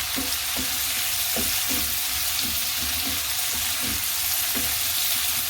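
Onions and okra cooking down in a pan for a Mediterranean-style okra dish, giving a steady close sizzle with faint regular stirring clicks and no talking.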